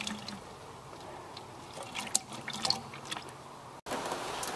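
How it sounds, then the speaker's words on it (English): Teak oil poured into a 5-gallon bucket, heard as a steady liquid trickle with soft drips, close and fairly quiet, with no talking. "My first step is to pour all of the teak oil into a 5-gallon bucket"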